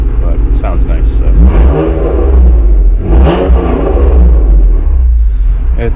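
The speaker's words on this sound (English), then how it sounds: "So here's the exhaust there. It's very raspy with this setup, but it sounds nice." A Honda NSX exhaust gives a loud, raspy engine rumble that rises and falls in revs close by, with someone talking over it.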